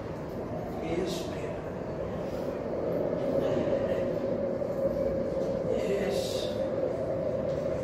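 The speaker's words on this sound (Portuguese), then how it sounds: "eu consigo ver o trem indo embora" A train rumbles steadily at a station, a broad continuous low drone that swells slightly louder partway through, with faint higher hiss bursts on top and no talk.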